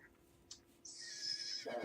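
A horse in the video game Rising World gives a faint, drawn-out whinny after a couple of soft hoof knocks, quiet and alone.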